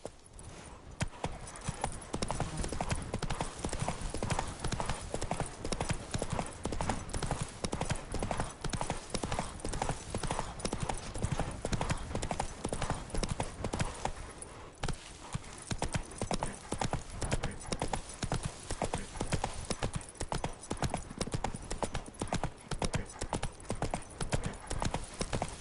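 Roach the horse from The Witcher 3 trots with a steady, rhythmic clip-clop of hooves that carries on for a long stretch, close and fairly quiet, with only brief breaks in the pattern.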